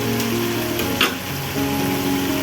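Potatoes frying with tomato in a pan give a steady close sizzle with a brief louder stir or clatter partway through, no voices.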